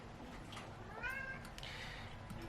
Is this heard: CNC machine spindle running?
no